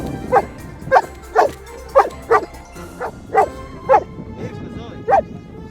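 A dog barks repeatedly outdoors, about nine sharp, yappy barks in a steady rhythm, fairly close and loud over a low background hum.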